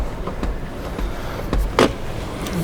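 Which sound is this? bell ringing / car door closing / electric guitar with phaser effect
car door closing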